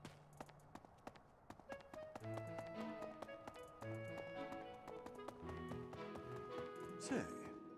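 Horse hooves clip-clop in a Fire Emblem Three Houses game scene, a light rhythmic tapping over gentle background music and soft in-game chatter.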